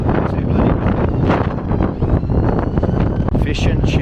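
Strong wind roars across the Brighton seafront during a storm, buffeting the microphone with a loud, continuous rumble that swells and gusts throughout, a voice briefly audible beneath it.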